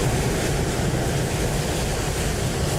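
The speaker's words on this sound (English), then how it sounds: "Airbuses with the brake fans going, the APUs, engines going. It's a very loud, high decibel ramp." Loud, steady roar on an airport ramp, with Airbus brake fans, APUs and jet engines running together as a dense, unbroken wash of noise throughout.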